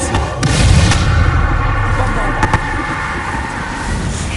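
The Bombarda explosion spell in Hogwarts Legacy erupts in a loud, booming blast with rumbling low-end, followed by sharp cracks and lingering combat noise while a voice speaks over it.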